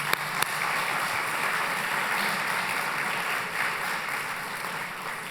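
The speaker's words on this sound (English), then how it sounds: "Let's give them one more round of applause." An audience at a national civics bee event applauds in a continuous, even wash of clapping from a crowded hall, holding steady for several seconds.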